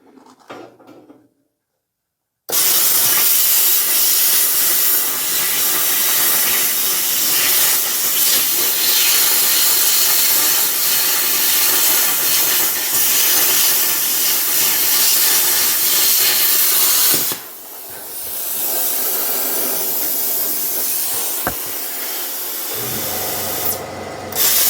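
A Harbor Freight plasma cutter cuts through metal with a loud, steady roaring hiss that starts abruptly, breaks briefly, then resumes and ends with a short pause between cuts.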